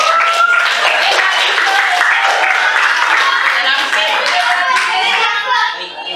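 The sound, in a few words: classroom clapping hands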